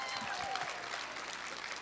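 A church congregation claps together in steady, continuous applause that fills the room for a short stretch.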